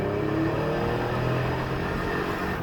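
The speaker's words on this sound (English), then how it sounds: "Let me get it out for a test drive so you can hear it run" A 2019 Toyota Sienna wheelchair van with 3k miles runs on a test drive, giving a steady, continuous engine drone and road hum from inside the cabin, with no talk.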